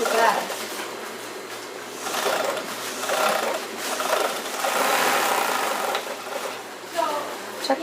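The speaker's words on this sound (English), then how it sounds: "just showed me how to work the ruffler on this serger" Serger fitted with a ruffler attachment runs fast, sewing and gathering drapery fabric in a steady mechanical whir that surges and eases over several seconds, with a voice talking over it.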